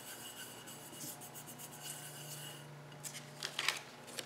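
Soft, close rubbing of paper over leftover paint on a journal page, a faint papery scrape repeated in short strokes.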